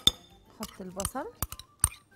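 Salad with dill and onion stirred in a bowl, giving a few sharp clinks of utensil against dish in between stretches of someone talking.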